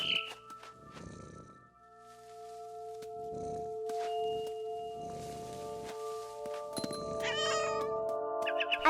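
A cat meows in the What Remains of Edith Finch video game, with several clear, fairly close meows in sequence over steady game music and ambient tones.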